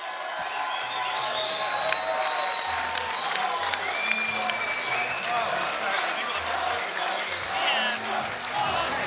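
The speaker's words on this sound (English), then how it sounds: "a massive round of applause for both of these men" Crowd at a Muay Boran fight night applauds and cheers after the bout, a sustained roar of clapping with whistles and shouts, while an announcer's voice carries over it.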